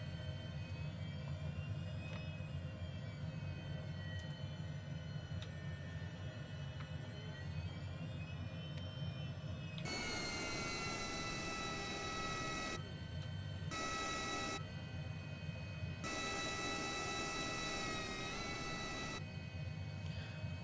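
HondaJet engines at takeoff, a loud continuous turbine roar and whine heard from inside the cockpit, with bursts of broadband rushing noise cutting in and out during the second half.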